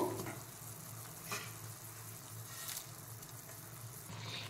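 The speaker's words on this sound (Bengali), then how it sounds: "এখানে আমি দুটো টপ রেমেন সেদ্ধ করে নেব" Two packs of Top Ramen noodles simmer in a pot of water seasoned with salt and a little oil, giving a steady soft bubbling hiss with faint clinks, close and quiet, without speech.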